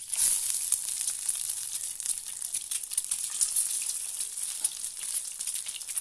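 Halved boiled eggs set face down in hot oil, frying with a steady bright sizzle that holds throughout, close and fairly quiet, with no talking.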